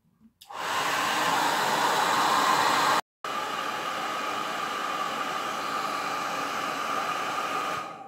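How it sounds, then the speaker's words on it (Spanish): A hair dryer blows steadily and loudly to warm a candle mould so a coffee-scented candle will release. It starts abruptly, cuts out for a split second and resumes, then runs on alone until it switches off. "únicamente tendremos que calentar poco a poco con el secador esta parte de aquí dentro y se desprenderá fácilmente"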